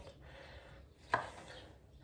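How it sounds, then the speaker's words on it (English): A knife chops strawberries in a kitchen, giving a single crisp cut against a board amid faint rustling and quiet room noise. "Chop the strawberries up."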